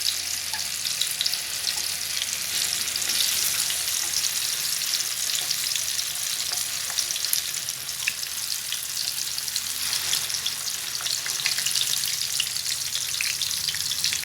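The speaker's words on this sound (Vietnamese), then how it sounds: "còn tàu hũ thì các bạn chiên cho nó vàng đi ha" Close, continuous sizzling and crackling of tofu frying in hot oil, steady throughout with scattered pops and no talking.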